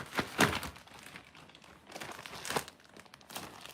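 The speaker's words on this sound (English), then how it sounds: "And they come in this nice heavy plastic bag," A heavy plastic bag crinkles and rustles as yarn from India is pulled out of it, with loud close bursts of crumpling separated by quieter handling, no voices.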